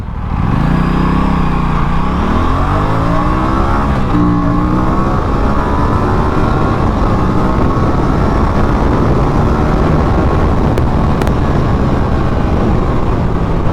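An Aprilia RS 457 motorcycle pulls hard through the gears from a standstill, its engine note sweeping upward and dropping at each shift, steady and loud with wind rush throughout.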